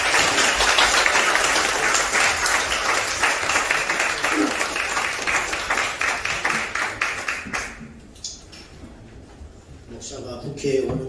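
At a Korean forum, an audience breaks into loud, sustained applause as a pastor comes forward. The clapping stays full for several seconds, then thins to scattered claps, and a voice follows as the room quiets.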